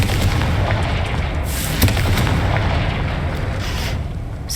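A Confringo blasting spell bursts in Hogwarts Legacy as a dense, roaring explosion that rumbles continuously with a few sharper cracks inside the din.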